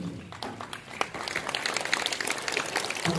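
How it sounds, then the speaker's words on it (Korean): Guests at a March 1st Independence Movement 100th anniversary ceremony in Reedley applaud, scattered clapping that builds into steady, moderately loud applause across the room. "박수 부탁드립니다."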